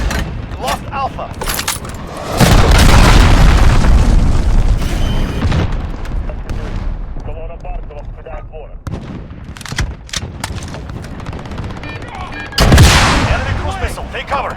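Cruise missile strikes in the Call of Duty Modern Warfare game, heavy booming blasts and rumbling explosions mixed with gunfire, loud and dense, with a second big blast near the end and game voice callouts in between.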